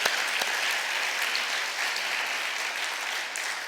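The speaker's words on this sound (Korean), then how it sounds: "다시 한번 좀 힘찬 박수를 보내면 좋겠습니다" A church congregation at Sunday worship gives a steady round of vigorous applause, dense clapping sustained evenly for several seconds without talk.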